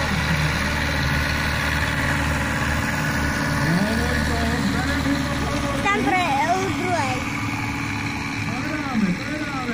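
Tractors plough the last furrow at a Czech farm show, a steady loud engine rumble throughout, with people talking over it and rising-and-falling tonal sounds partway through.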